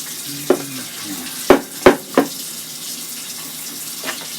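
Blender jar of a Mainstays personal blender rinsed under running tap water in a sink, a steady splashing wash broken by four sharp knocks and clunks against the jar, close by with no talk.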